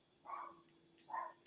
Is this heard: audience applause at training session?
no